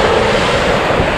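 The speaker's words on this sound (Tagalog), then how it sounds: "Medyo malakas yung alon" Loud, continuous roar of strong surf and rushing water with wind buffeting the microphone, no voices, at the Mahboula seaside in Kuwait.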